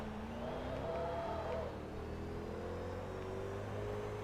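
Supercharged car engine in Forza Motorsport 2 drones steadily, with whining tones rising and falling as the car accelerates, a moderate continuous hum throughout.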